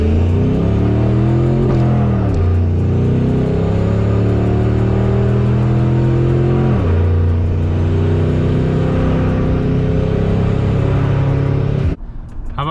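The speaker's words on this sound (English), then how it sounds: "Some two-wheel drive donuts." A 2003 Ford F-150 pickup with a turbo, running in two-wheel drive on a freezing day, roars loudly while doing donuts. The engine revs rise and fall in long sweeps, close and alone, and cut off sharply at the end.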